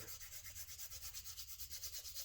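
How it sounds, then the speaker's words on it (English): A stick of charcoal is rubbed against sandpaper in steady, rhythmic strokes, a close, continuous scratchy rasping with no talking. "sharpen my charcoal here with the sandpaper"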